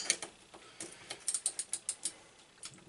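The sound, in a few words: ratchet removing bolts from Predator 212 engine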